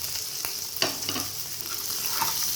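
Onions and chili with a pinch of panch phoron fry in hot oil: a steady close sizzle and hiss with a few soft stirring scrapes and knocks, no voices.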